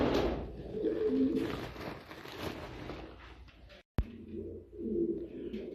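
Fancy pigeons kept as hobby birds coo in low, repeated rolling bursts, close by and fairly loud, with a brief dropout near the middle before the cooing resumes.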